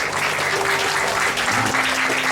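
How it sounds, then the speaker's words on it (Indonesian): Dense applause from a church congregation for a choir at a GKI anniversary celebration in Papua, a continuous, full wash of clapping close by, with faint voices in the background. "kita tepuk tangan untuk paduan suara PW dulu."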